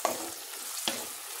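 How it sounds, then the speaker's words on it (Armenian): Tomatoes fry in a pan with a continuous close sizzle, broken by two sharp clicks of a spoon or spatula. "թողնեմ դանդաղ տապակվի։"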